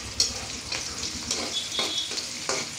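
Chopped onions sizzling in hot oil for pigeon curry, with scraping stirs of a spoon in the pan, close and continuous.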